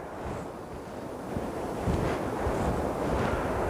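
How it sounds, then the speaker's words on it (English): Waves crash and surge onto a beach in steady broadband roar, with wind buffeting the microphone, swelling louder midway and staying full to the end; no voices. "the crashing waves that were coming towards me"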